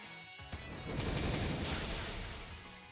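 Fire Pledge attack in the Pokémon Shield video game: a sharp impact, then a loud roaring, crackling burst that swells and slowly fades, with no talking.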